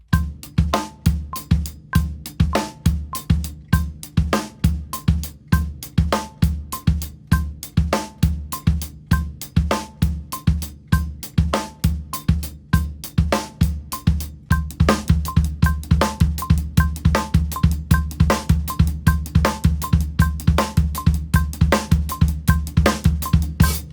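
Drum kit laying down a dotted eighth note groove, steady kick and snare under busy bright hi-hat or cowbell strokes, played slow and then noticeably louder and denser, close and alone.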